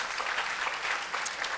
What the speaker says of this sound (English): Let's give God one more applause